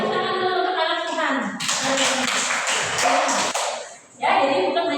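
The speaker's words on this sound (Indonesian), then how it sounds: "kita berikan tepuk tangan dulu untuk anak Tuhan" Children in a church class give a short burst of clapping, dense and close for about two seconds between stretches of someone talking.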